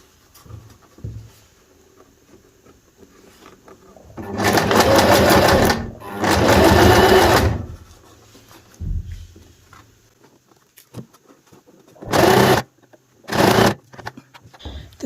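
Sewing machine stitching a turban head wrap, running in four loud bursts of a few seconds each, with quieter handling noises between them and no speech.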